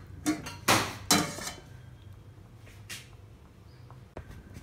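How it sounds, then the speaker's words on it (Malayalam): Elephant foot yam curry being stirred in a pot, heard as a few sharp metallic clinks and scrapes of a spoon against the pot early on, then quieter scattered knocks. "ചേന വേവിച്ചത് ഇട്ട് കൊടുത്തു ഇനി നന്നായിട്ടൊന്ന് ഇളക്കി കൊടുക്കണം"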